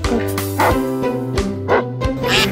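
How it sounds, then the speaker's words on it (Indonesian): A dog barks repeatedly in short, close bursts, several yaps in quick succession with a steady low hum behind them. "Ini namanya anjing."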